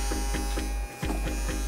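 A hydraulic hose crimping machine hums steadily at close range, a loud continuous electric drone with a short dip in the middle before it resumes, no talking.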